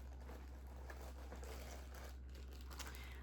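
Plastic bag of wedding keepsakes handled up close, giving steady soft crinkling and rustling throughout, with small crackles and no talking.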